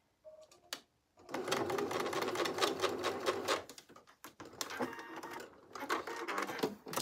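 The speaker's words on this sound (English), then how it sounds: "So they want me to baste this together." A sewing machine bastes fabric together in quick, loud rattling bursts of stitching, separated by brief pauses, heard close up.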